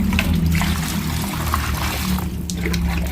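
Water drains out of a freshwater lobster pond with a steady, close rush and trickle that stays loud and continuous throughout.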